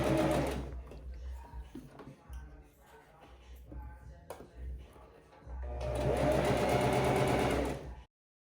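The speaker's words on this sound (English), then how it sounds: "add your basting stitch here" Sewing machine running a long basting stitch along the hem of linen pants, a brief burst at the start, then a quieter stretch with handling noises before a steady, loud whirring run near the end.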